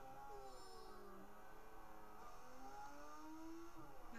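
Race car engine in Forza Motorsport 4, a faint, thin whine of rising and shifting engine tones sweeping up and down through gear changes, steady and quiet throughout.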